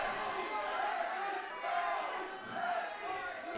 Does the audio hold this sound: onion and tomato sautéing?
no